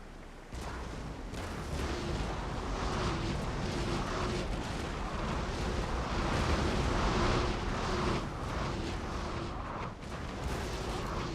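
Ship cannons firing broadsides in Napoleon Total War during a British naval battle: a dense, continuous rumble of booming shots overlapping at a distance, with no talking.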